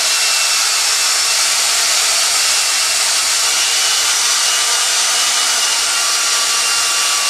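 A continuous high-pitched whirring of a power drill grinding steadily through the wood of a trident maple bonsai, loud and close, with no voices.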